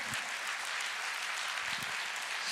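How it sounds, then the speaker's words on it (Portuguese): Applause at a Brazilian church sermon, a steady dense wash of clapping from the congregation that fills the whole moment without any speech over it. "pode aplaudir."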